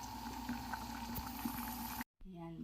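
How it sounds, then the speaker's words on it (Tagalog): Water is drained off boiled eggplant in a home kitchen, a steady bubbling, pouring rush that cuts off abruptly, then quieter kitchen sound. "Tanggalan na natin siya ng tubig."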